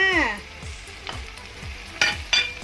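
Vegetables, Chinese celery among them, sizzle and crackle in a hot frying pan as they are stir-fried, with soft scraping stirs and a few sharper spatula clanks near the end, close by and with no talk.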